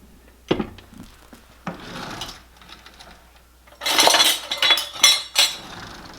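Milk, vanilla and flour mixed into tea cake batter in an Appalachian kitchen, with clinking utensil strikes against a bowl followed by bursts of brisk scraping and stirring, close and intermittent.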